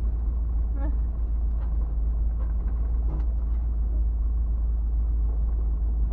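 A vehicle drives through a canyon on a steady, loud low engine rumble with road noise. Faint voices sit underneath.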